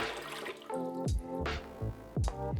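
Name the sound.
cocoa fiber brick put into water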